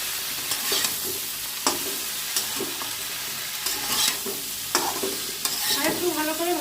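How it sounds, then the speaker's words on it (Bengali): Vegetables with turmeric, peas and slit green chillies frying in a pan, a steady sizzle broken by repeated scraping stirs of a spatula, close and clear with no talking. "দিয়ে এখন আর একটু ভালো করে ভাজতে হবে।"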